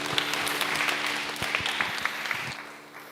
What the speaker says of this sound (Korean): 우리 박수 한번 주시고.